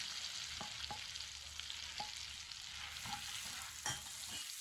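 Minced garlic frying in butter in a pan for a butter garlic mushroom dish, a steady soft sizzle with occasional light crackles and spoon scrapes, no talking.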